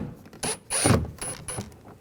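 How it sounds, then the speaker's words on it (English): Phillips head screwdriver backing a screw out of a 2011-2018 Ram 1500 front door panel, a few short ratcheting clicks and squeaky turns, close and clear with no talking. "Take that screw out, just use a Phillips head screwdriver."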